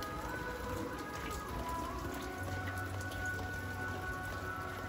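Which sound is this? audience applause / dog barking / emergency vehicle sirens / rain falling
rain falling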